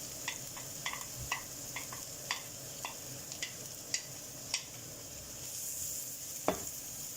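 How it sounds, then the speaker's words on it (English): Garlic, chorizo and onion fry gently in oil in a single pan for a meatball and potato stew, with a soft steady sizzle broken by light, evenly spaced ticks and scrapes of a utensil. "in that same oil I will add the garlic, chorizo and onion"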